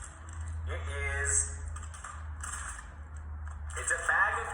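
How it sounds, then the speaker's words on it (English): A bag of keys is handled up close, producing bursts of small clicking and rattling with quiet gaps between them, while people talk in the background. "It's a bag of keys."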